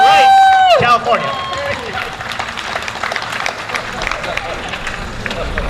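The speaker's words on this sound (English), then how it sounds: "let's give her a round of applause for all the things that go right in California" A speaker's voice trails off, then a crowd bursts into applause at the Unity Against Hate rally outside the California State Capitol in Sacramento. The clapping is loud and dense, with scattered cheers, and it stays sustained to the end.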